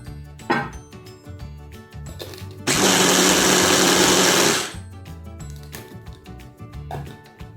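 An electric whisk whirs loudly for about two seconds, blending frozen fruit into puree in a small bowl and straining slightly, with clinks and kitchen handling before and after.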